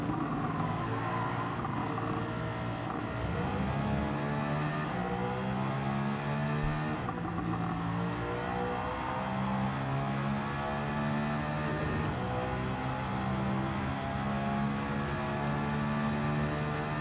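A race car engine in the Gran Turismo 7 racing game revs hard and steadily, its rising and falling harmonic whine shifting through gears over seventeen seconds, loud and alone without talk.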